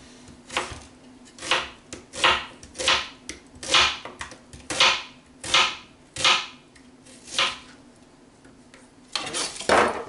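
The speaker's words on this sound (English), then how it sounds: "just slice it, keeping your fingies away from the blade" A knife slicing through vegetables on a board for a vegan crunch wrap, about nine crisp, evenly spaced cuts close up, then a brief louder clatter at the end.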